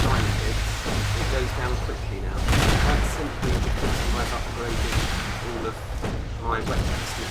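Ship weapons and turrets firing at an enemy in the space game Stellar Tactics, a dense run of blasts and booms under a voice talking continuously.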